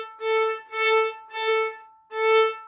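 A bowed string instrument played with the bow held at the wrong angle, producing a poor tone: four separate sustained bow strokes, evenly spaced, close and alone with no talk.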